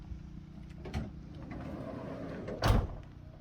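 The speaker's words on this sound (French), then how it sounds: "Vous fermez la porte du camion" A camper van's door slides shut with one solid thud near the end, preceded by a smaller knock and set against steady low background noise.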